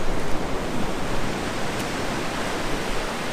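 Ocean waves washing ashore at sunset, a dense hissing surge that swells slightly at the start and then holds steady, close and fairly loud, with no voices.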